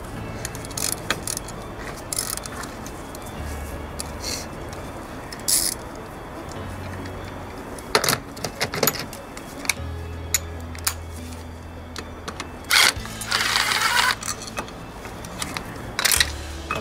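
A bolt being worked loose from the secondary air intake manifold on a 9N3 VW Polo GTI 1.8 20VT: rapid metallic ratchet clicks and tool clinks close by, over a steady background hum with low rumbles.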